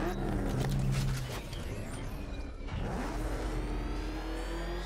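The Batmobile from Batman: Arkham Knight driving, a steady mid-pitched engine drone with revving swells and rumble that continues throughout.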